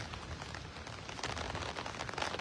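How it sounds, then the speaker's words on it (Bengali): Heavy rain at dusk in Singapore pours as a dense, even hiss of drops, close and continuous for a short stretch. "আর এত জোরে বৃষ্টি হচ্ছে"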